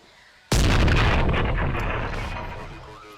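A sniper rifle in the video game Carnivores The Middle Islands fires one sudden, very loud shot, and its heavy boom rolls away slowly over a few seconds.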